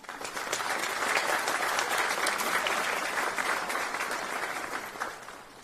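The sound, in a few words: audience applause at police academy graduation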